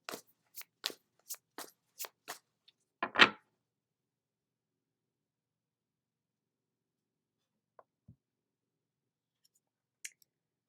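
A Light Seer Tarot deck shuffled in a quick run of crisp card flicks and riffles, ending in one louder burst, followed by near silence with a few faint clicks.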